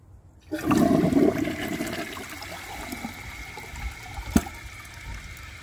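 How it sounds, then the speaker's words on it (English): A Delta Corrente toilet gets a full flush during a performance test, a loud rushing surge of water that quickly drains down into a softer trickle and refill, with a brief clunk near the end. "I'm going to empty the tank out, give it another full flush"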